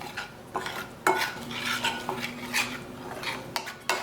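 A spoon works through a masala marinade with vegetable oil in a bowl, giving a run of close, irregular scraping and clinking strokes against the bowl with short pauses between them.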